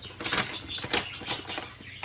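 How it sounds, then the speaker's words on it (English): Pet birds flap their wings indoors in quick fluttering bursts, several flurries in rapid succession, close and fairly loud over a low steady room hum. "Sorry for the birds, they get excited whenever I do a video."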